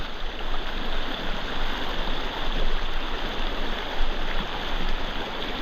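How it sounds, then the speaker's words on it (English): Steady broadband rush of a waterfall beside a stream, heard where a Japanese tenkara fly-fishing trip takes place, loud and continuous with no break and no voices. "I had no idea there was a waterfall here."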